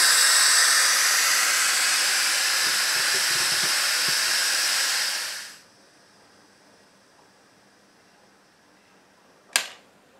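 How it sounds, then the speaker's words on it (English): An Instant Pot EVO pressure cooker vents steam in a loud, steady hiss that runs for over five seconds and then cuts off, followed by quiet and a single sharp click as the pin drops. "I'm just going to let the steam out until the pin drops"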